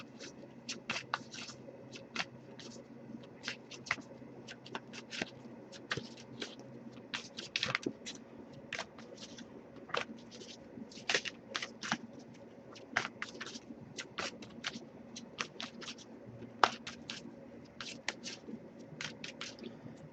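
Tarot cards are shuffled over and over, producing quiet, uneven flicks and soft slaps up close against a low background hum, without any talking.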